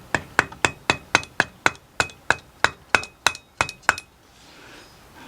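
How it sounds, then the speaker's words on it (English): A hammer taps metal about a dozen times in a steady rhythm on the primary pulley of a JF011E CVT transmission during a rebuild, each strike bright and ringing, then stops, leaving quiet room tone. "I'm going to get a hammer and I'm going to just try to just tap"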